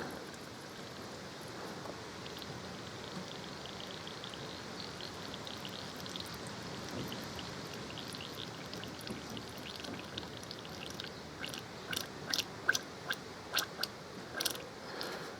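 Coolant trickles steadily through a hose during a service on a 2014 Harley-Davidson Electra Glide, a close, continuous wet pouring that breaks into a few distinct drips near the end.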